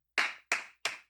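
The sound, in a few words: a person clapping hands alone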